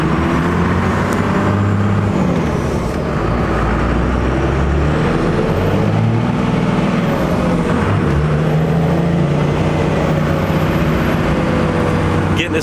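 A Dodge truck's Cummins diesel engine runs steadily at idle and low revs, a loud continuous low rumble with a mechanical drone, heard up close with no talking.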